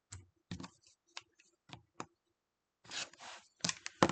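Scissors snip through quilting fabric to trim a quilt block: a series of short, crisp cuts at irregular intervals, close and quiet, ending in a longer rustle of cloth being handled.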